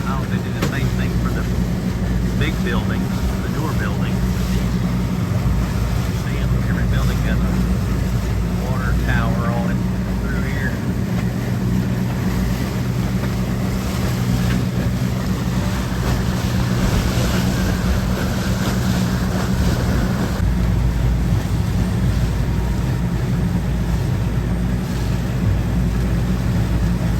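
Boat engine and water noise around a boat moving on the harbor water in New York City, a steady loud wash with wind buffeting, voices talking faintly through it.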